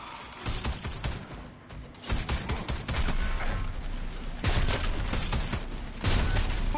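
Video game gunfire aimed at an egg target, a sustained rattling fusillade of rapid shots that swells louder in the later seconds, with no talk.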